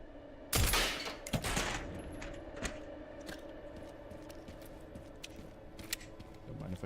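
Gunshots in the video game Resident Evil Requiem, one loud sharp blast followed by a few quicker, quieter shots and clicks over a low ambient drone.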